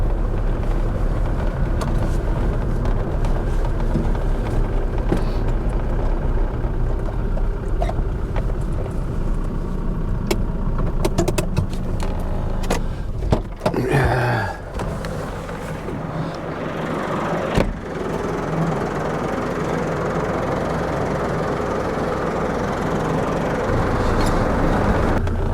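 A farm tractor engine runs with a continuous low rumble and drone, fairly loud and steady, with clatter and brief rattles partway through and no voices.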